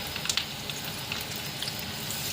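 Dry red chillies fry in hot tempering oil for a tomato chutney, giving a soft, steady sizzle with small crackles and pops, heard alone.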